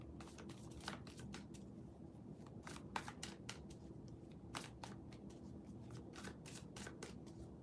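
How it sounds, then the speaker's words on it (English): Tarot cards are shuffled by hand in quick repeated riffles and soft flicks. The sound is close and quiet over a low steady background hum. "Let me pull some more cards"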